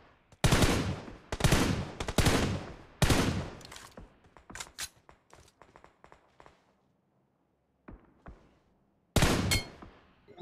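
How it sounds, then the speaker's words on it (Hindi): Gunfire in the video game BGMI, with several loud close bursts of rapid automatic shots separated by pauses, a quieter scatter of distant single shots in between, and a final sharp burst near the end. "अच्छे हिल पे गोली पड़ने लगी,"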